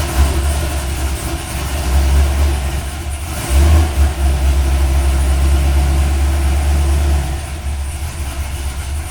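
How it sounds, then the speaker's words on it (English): Square-body truck engine running at a steady low idle, close and loud, with a brief surge of revving partway through before settling back to a rough, constant rumble. "I probably have to give it a little gas just to keep it running."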